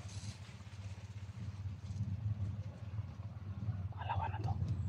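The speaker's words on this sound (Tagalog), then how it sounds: "Motor na naman yung dumadaan." A motorcycle passes on a hot day in a Philippine outdoor work area, a low steady engine rumble that swells slightly near the end, with faint background voices and clatter.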